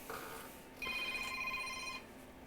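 An electronic telephone ringtone in a computer repair shop, sounding once as a steady high-pitched trill of about 1.2 seconds over quiet room tone.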